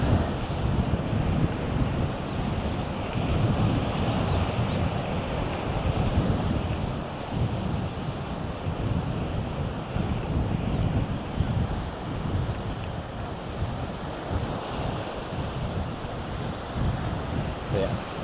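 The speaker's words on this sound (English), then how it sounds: "Wind's picking up." Wind roaring across the microphone on a coastal bike tour in South Korea, a steady loud broadband rush that gusts and swells continuously, with a surf-like wash underneath.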